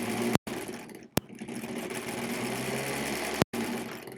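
A 1938 Kenmore model 38 sewing machine stitches steadily with a close, continuous mechanical whir, broken by a few short pauses.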